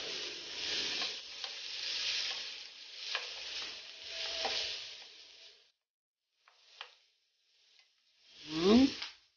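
Potatoes and egg frying in a pan over high heat give a steady, loud sizzle for about five seconds. It then cuts off, followed by a few faint clicks and a short rising swish at the end.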